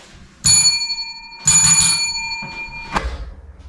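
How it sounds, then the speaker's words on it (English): A game-show contestant strikes a bell three times: bright, ringing dings spaced about a second apart, each ringing on with a long metallic tone. "Is this thing a bell that I was trying to hit? Oh, there you go, it's a bell."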